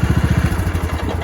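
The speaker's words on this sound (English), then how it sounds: "As long as your brake is on and your PTO is off, you can start the tractor" Small engine of a Troybilt Pony riding tractor, running with a rapid, even putter that loosens slightly after the first half second, heard up close with no talking.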